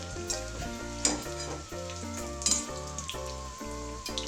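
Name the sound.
frying leftover chapati cones in oil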